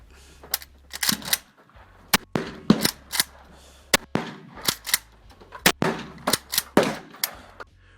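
Shotgun fire in the mobile shooter Critical Ops: a string of sharp, close, cracking shots in irregular bursts, some spaced a second apart and others in quick pairs, with short gaps of quiet between them and no talking.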